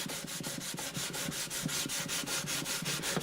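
A wooden guitar bridge, an Alvarez Artist AD65 bridge, is sanded by hand with 800 grit sandpaper, giving a close, even back-and-forth scratch in a quick steady rhythm with no talking.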